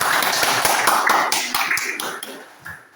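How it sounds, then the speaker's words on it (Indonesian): In a school classroom, students clap for a classmate, a brisk flurry of close, sharp hand claps that thins out and fades over a few seconds. "Tepuk tangan untuk Opa."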